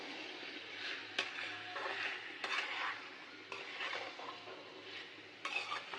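Shrimp and turnip curry stirred in a pan, with repeated scraping strokes of a spoon against metal over a soft steady sizzle, close and moderately quiet.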